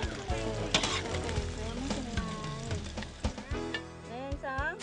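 Batter for Thai kanom talaeng sae is poured into a hot pan and sizzles and crackles steadily, close by, with scraping stirring sounds and brief voices over it.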